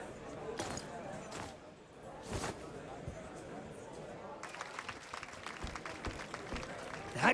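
Game crowd applauding a dance in Octopath Traveler II, with bursts of clapping and cheering that swell and grow denser toward the end, mixed with soft background game sounds.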